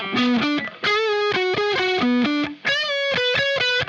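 An electric guitar with heavy distortion plays a short phrase from Incubus's "Rogues", including a string bend followed by quick repeated notes, clear and close with brief gaps between figures.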